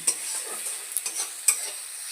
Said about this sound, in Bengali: এবার পেঁয়াজ আর রসুনটাকে একটু ভালোভাবে ভাজা করে নেব।